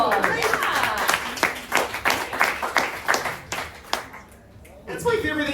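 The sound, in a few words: comedy club audience clapping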